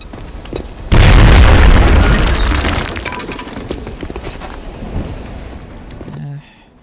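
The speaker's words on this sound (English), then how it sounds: "Frag out!" A frag grenade blows up in the video game XCOM: Enemy Within, a sudden loud boom with a crackling, debris-scattering tail that fades over several seconds. No one speaks.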